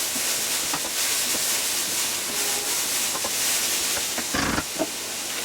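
Thai pork stir fry sizzling and hissing in a hot pan, a loud continuous broadband sizzle with steam, plus a few sharper spits and crackles near the end, no voices.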